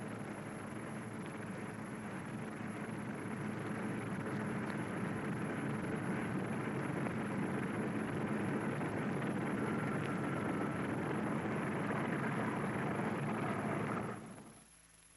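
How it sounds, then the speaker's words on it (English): A bomber aircraft taxis off to wait for takeoff, its engines giving a loud, steady broadband roar that holds for about fourteen seconds, then cuts off abruptly near the end. "Bomber ready, it moves off to wait its takeoff time under double guard."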